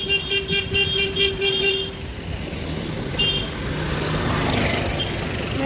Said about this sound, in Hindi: अब वो बस भी आ रहे हैं